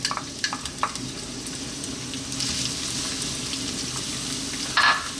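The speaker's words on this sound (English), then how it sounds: "We're going to start off by dropping in our onion." Chopped onion sizzles steadily in hot olive oil in a pan, a close, even frying hiss with a few faint clinks and no talking.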